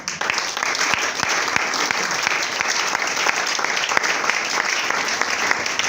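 Church congregation clapping and cheering in praise during a French-language revival seminar, a dense sustained wave of applause filling the room for several seconds without spoken words.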